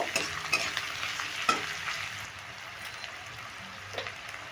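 Chopped onions fry in a pan for an egg tadka, giving a steady close sizzle broken by a few sharp scraping knocks as a spatula stirs them, with no voices.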